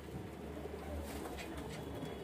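Pigeons coo softly in a breeder's loft, the low murmuring calls steady but faint beneath a constant background hiss, with no voices.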